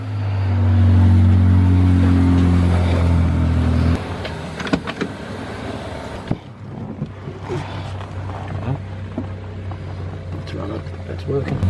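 A car is driven home from a service station: a loud, steady engine drone at the start gives way to road rumble and wind buffeting as it moves along, with a few knocks and rattles.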